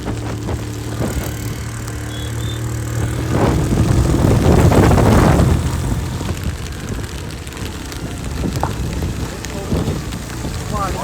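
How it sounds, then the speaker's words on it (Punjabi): Heavy monsoon rain roars down between Srinagar and Govindghat in Uttarakhand in a dense, steady wash that swells louder midway, then eases back to a constant downpour. "ਅਸਲੀ ਮੀਂਹ ਤਾਂ ਹੁਣ ਆਇਆ"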